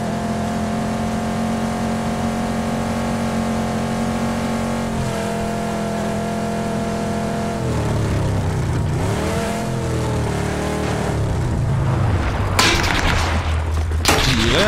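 Car engine in PUBG, set on a desert map, holds a steady high drone as the vehicle speeds along, then shifts pitch and rises toward a loud, rough revving burst near the end, with no talk over it.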